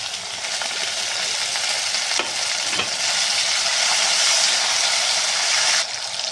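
Chopped tomatoes fry in a pan with onions and curry leaves for a spicy potato bhaji. Loud continuous sizzling runs throughout, with occasional scraping stirs of a spoon. No voices.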